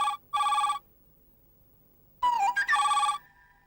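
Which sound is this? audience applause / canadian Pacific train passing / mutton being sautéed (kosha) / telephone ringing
telephone ringing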